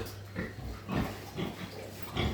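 Pigs in a farmyard pen give several short, close grunts in irregular bursts, each separated by brief pauses, with no one talking.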